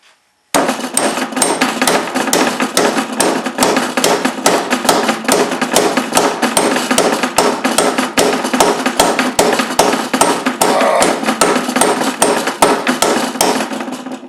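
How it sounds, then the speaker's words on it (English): Hammer repeatedly striking a large socket to drive a seal into the tail shaft housing of an NP231 transfer case, a steady run of sharp metallic taps, loud and close, continuing without pause. "I'm driving the seal in. It goes into the tail shaft housing."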